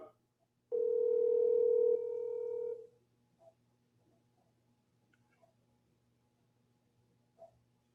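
A steady electronic telephone tone sounds for about two seconds, then cuts off, leaving near silence with a few faint clicks.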